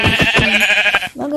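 Sheep bleating in a blocky sandbox video game, several wavering bleats in quick succession over about a second, then a short pause and one more bleat, loud and close with nothing else heard.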